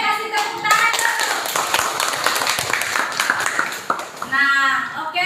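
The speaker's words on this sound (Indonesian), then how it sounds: "Oke, kasih tepuk tangan dulu" Schoolchildren clap their hands together in a classroom after a student presents conclusions on gross, net and tare weight, a dense run of sharp, close claps with voices mixed in.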